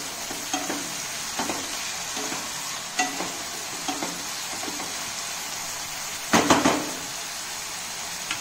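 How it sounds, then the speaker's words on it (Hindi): A spoon scrapes and stirs poha ingredients in a pan over a soft steady sizzle, with a handful of short scraping strokes and one louder clattering stir near the end. "ये सब डाल के इसको मिला देना है।"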